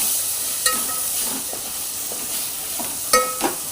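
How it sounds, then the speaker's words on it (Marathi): Chopped vegetables for pulao are sautéed in a pan with a soft, even sizzle. A couple of sharper clinks of a stirring utensil punctuate it, and no one talks. "आता हे व्हेजिटेबल जे कट करून आपण धुवून घेतलेले ते घालायचे त्याच्यामध्ये। परतून घ्यायचे।"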